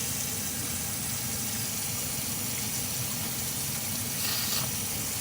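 A broad, steady hiss of steam from a pressure cooker's quick release while cooking black chickpea curry fills the whole stretch, constant and fairly loud, with no pauses or other sounds over it.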